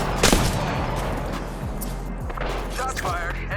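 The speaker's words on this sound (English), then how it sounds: "Shots fired and they're hitting me" Gunfire in Apex Legends, a sharp shot at the start followed by scattered distant shots under a dense, noisy battle ambience with a voice talking over it.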